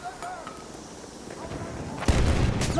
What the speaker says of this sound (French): Attention! Attention! Grenade!